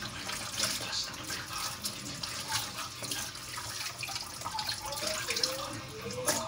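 Vegetables washed under a running tap, with a continuous stream of water splashing and gurgling into a sink, close by and steady throughout.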